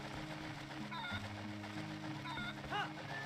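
Chicken clucking in the video game Twilight Princess, a few short clucks over steady game music and ambience, fairly quiet.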